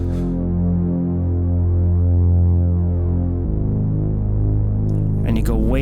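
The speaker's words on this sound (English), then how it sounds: "The bass sounds like this. Again, it's just the reece bass" A synthesized reece bass, heavily glue-compressed and saturated, drones low and thick with a throbbing, detuned movement, shifting pitch downward partway through, then a brief bright flourish near the end.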